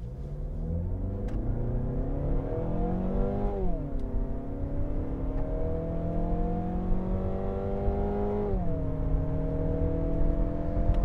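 A 2023 Mazda 6 with a naturally aspirated 2.5-litre Skyactiv-G engine pulls hard at full throttle in sport mode, its steady engine note climbing through the revs with brief dips at gear changes.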